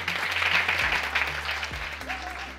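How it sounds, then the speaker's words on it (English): Brief burst of audience applause for a teenager's food-waste restaurant, steady close clapping from a crowd with some low hum underneath, lasting a couple of seconds. "I'd just like you all to give it a big round of applause."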